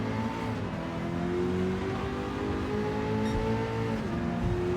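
AI-driven race cars roar around a track in Gran Turismo 7, engines whining steadily at high revs with shifting pitch as cars compete closely, a continuous, loud engine drone throughout.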